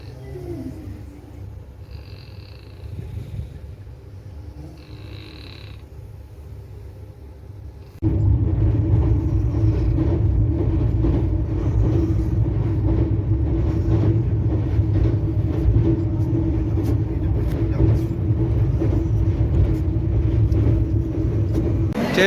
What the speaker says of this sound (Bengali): এখানে আমাদের ট্রেনে 5 মিনিটের হল্ট, তারপর এখান দিয়ে আমাদের ট্রেন বেরিয়ে যাবে